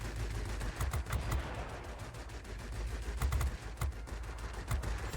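Aircraft guns fire in rapid bursts in the World of Warplanes game, with quick machine-gun rattles in several clusters over a steady engine drone, moderately loud and without voices.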